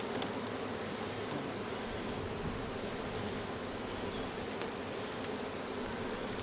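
Honey bees buzz around an open hive during an inspection, a steady, faint, hissing hum of many insects with a few brief closer passes and no voices.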